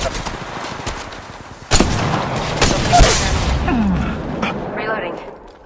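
Gunfire in the video game Apex Legends: repeated rapid weapon bursts and sharp shot impacts starting about a second in, loud and close, mixed with game noise and player talk.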